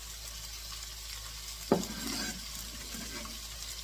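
Vegetables for vegetarian fried rice sautéing in a pan, a steady close sizzle with a brief clatter of stirring partway through, no talk.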